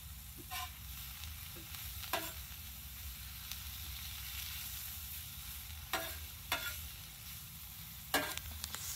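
Shrimp seasoned with salt and pepper sizzle in a pan with a steady soft hiss, broken by a few sharp clicks and scrapes as they are stirred, close and quiet, with no voices.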